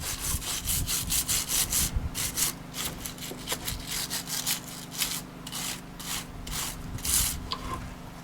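A wire brush scrubs fly dust off a battery terminal in steady back-and-forth strokes, a close, dense rasping that repeats in quick bursts throughout with a low hum beneath and no talking.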